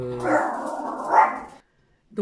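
A big dog barks nearby in one drawn-out, rough burst that rises again before cutting off, followed by silence and a brief sound at the end.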